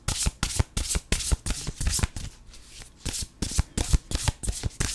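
Oracle cards shuffled by hand before an animal card is drawn: a rapid series of crisp riffling bursts close to the mic, with a brief softer pause in the middle before the quick shuffling resumes.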